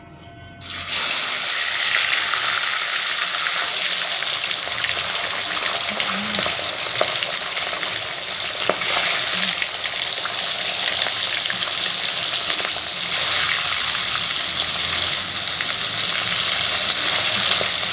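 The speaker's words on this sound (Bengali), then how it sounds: "এবার এক এক করে মাছটাকে একটু ভেজে নেব।" Pieces of katla fish fry in mustard oil over a medium flame, a loud continuous crackling sizzle that starts abruptly and holds steady, with scattered sharp pops, no voices.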